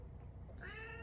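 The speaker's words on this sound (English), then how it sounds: "That is Foggy in the background if you're wondering what the meows are." Foggy the cat lets out a single short meow, faint and somewhat distant in a quiet indoor room, rising at the end.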